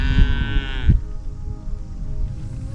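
A cow lows once, a loud close drawn-out moo lasting nearly a second, then quieter rustling farmyard background follows.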